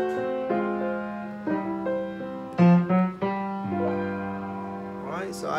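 Slow blues piano fill, a run of ringing notes and chords with one stronger accent midway, played softly and alone before a faint voice enters at the very end.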